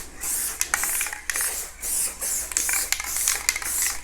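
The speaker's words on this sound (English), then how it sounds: "all you're gonna do is just give it a light spritz" WD-40 dry lube is sprayed onto a cast iron table saw top in a series of short, close hissing bursts with brief pauses between them, and no talk.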